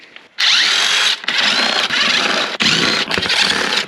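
Loud power drill or impact driver running close up in long bursts with brief pauses, driving bolts into an aluminum radiator guard on a hard enduro motorcycle.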